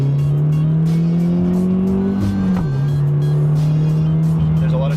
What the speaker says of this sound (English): So if you want to do a quick shift, you're looking at doing something like from second to third.